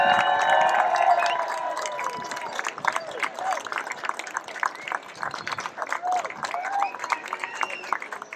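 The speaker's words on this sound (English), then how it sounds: "Let's give them a huge round of applause." A reception crowd at the Pacific Air Show VIP event applauds the civilian air show performers, loud clapping and cheers at first that thin into scattered claps with murmured voices and whistles.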